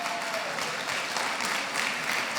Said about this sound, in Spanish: Mujeres aplaudan porque estoy defendiéndolas.